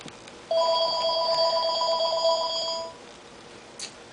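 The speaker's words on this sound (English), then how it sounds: "Just ignore the phone." A telephone bell rings in two long electronic trills, loud and close, stopping about three seconds in, with no talking over it.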